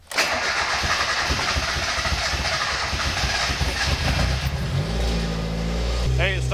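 A built turbo Mazda Miata cranks through a long stretch of loud, dense churning, then catches near the end and settles into a steady, close rumbling idle. Faint voices can be heard in the background.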